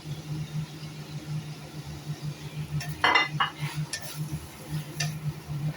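Yardlong beans are stir-fried in a pan for spicy pork belly, with a low steady sizzle under quiet scraping and stirring clinks of a utensil against the pan, and no voices.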